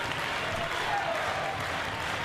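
Wrestling crowd at an Australian wrestling show applauding and cheering in a steady, dense wash of clapping and noise throughout the short stretch, with no clear break.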